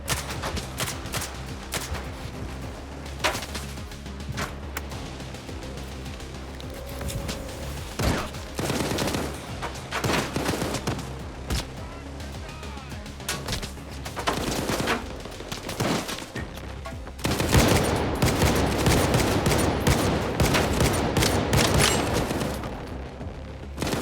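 Repeated bursts of enemy gunfire in a video game, rapid volleys and overlapping shots that swell louder and denser toward the end, with no talking.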